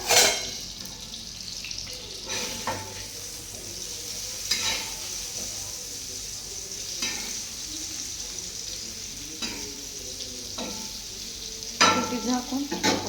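Green chillies stuffed with crushed peanuts and salt cook in a pan over low gas, giving a soft steady sizzle broken by several sharper stirring scrapes and clinks.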